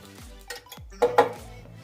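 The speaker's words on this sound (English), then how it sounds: "We're just gonna mix it up, put it everywhere too" Diced Italian tomatoes being stirred into a Lebanese braised beef and green bean stew, a spoon scraping and knocking against the pot in a few distinct clinks and scrapes, close and fairly loud with no talking.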